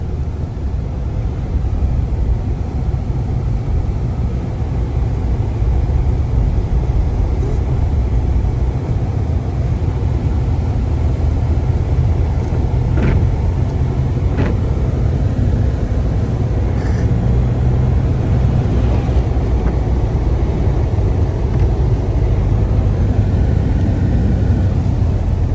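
A car drives along a road with a steady, loud engine and tyre rumble that holds constant from start to finish, with no voices.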